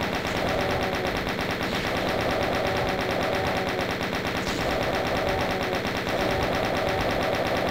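Chain gun fire in the Doom video game rattles out in a rapid, continuous stream of shots, loud and sustained throughout with only slight breaks.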